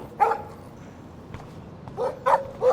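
A dog in the Life Is Strange video game barks in a few short, sharp bursts, close and clear over a quiet background.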